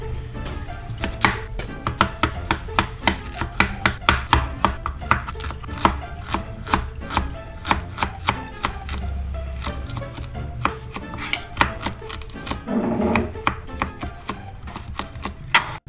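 Knife chopping onion, garlic and ginger on a cutting board for Filipino fish escabeche, sharp close steady knocks in a regular rhythm with a few brief pauses, no talking.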